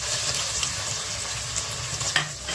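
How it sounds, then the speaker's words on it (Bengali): Fish sizzles in hot oil in a pan with mustard, cumin and ginger pastes, a constant close crackling fry with light stirring and no voices. "এবার আমি এটাকে একটু ভালো করে ভেজে নিব।"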